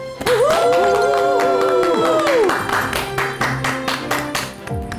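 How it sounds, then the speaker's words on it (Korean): An audience applauds to welcome a guest lecturer on a Korean lecture show, with crisp clapping emerging from under a loud musical jingle with sliding tones and continuing steadily once the music drops away. "큰 박수로 모셔주시기 바랍니다."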